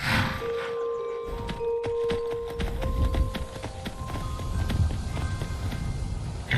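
Horse hooves clip-clop at a steady riding pace in the video game Skyrim, close and clear over faint tonal music, with no talking.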